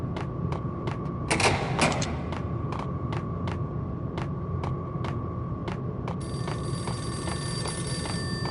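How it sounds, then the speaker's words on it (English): Payphone in the Max Payne video game ringing in regular electronic trills, about two per second, loud and steady over a low hum of game ambience, with a brief thud and a faint high tone near the end. "The payphone started to ring."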